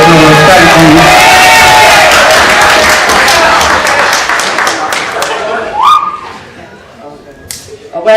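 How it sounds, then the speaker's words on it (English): A wedding reception crowd bursts into loud applause and cheering with whistles, the clapping dense at first and then thinning out into scattered claps, with voices calling out over it. "Can we get a big round of applause?"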